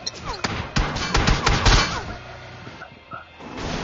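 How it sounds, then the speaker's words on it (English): Rapid bursts of gunfire crackle in a PUBG Mobile squad match, dense shots clustered over the first two seconds and then thinning to a few scattered pops, loud and close. "they're shooting at him"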